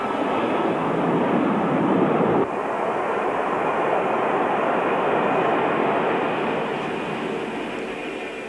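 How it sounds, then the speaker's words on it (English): A Lockheed L-1011 TriStar airliner powered by three Rolls-Royce RB211 jet engines, a loud, continuous broadband roar that dips briefly early on and then slowly fades. "Lockheed 1011 TriStar. Powered with 3 powerful Rolls-Royce"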